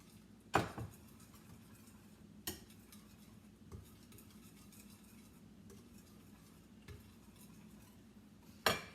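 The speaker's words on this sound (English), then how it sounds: "you just want to whisk that all together" Keto lemon blueberry muffin batter being whisked together, with a few sharp knocks of the whisk against the bowl spaced apart and faint scraping stirring in between, close and quiet.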